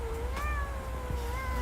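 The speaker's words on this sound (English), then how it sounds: "cat meow." A cat sound effect played during a live stream: a single drawn-out meow with a rising and falling pitch, clear and alone over a faint background hum.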